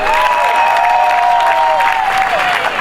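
Wedding guests applaud at a civil marriage ceremony, a brief burst of steady clapping with a sustained tone, likely music, running above it.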